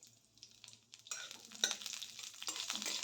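Panch phoron and slit green chillies hit hot mustard oil, starting from near quiet and then bursting into a loud, close sizzle with spatters and crackles that continues to the end.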